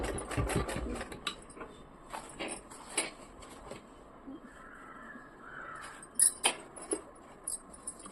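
A home sewing machine stitches a blouse sleeve in short, quiet bursts of rapid whirring, broken by clicks and brief pauses.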